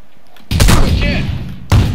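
Shotgun fire in the battle royale game PUBG: two loud, close blasts, the first with a long rumbling tail and the second cutting in near the end.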